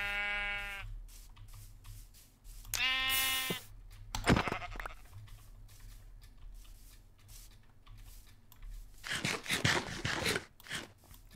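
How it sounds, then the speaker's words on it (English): Sheep in the video game Minecraft bleat in short, loud cries as they are struck and killed, one at the start and another a few seconds later, followed by crunchy hit and footstep noises. "let me stop going around killing sheep and stuff"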